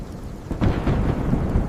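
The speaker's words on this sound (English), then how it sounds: "There is a big storm." Thunder rumbles through a big nighttime storm, a steady low roar that swells sharply partway through and holds loud, with rain hissing throughout and no voices.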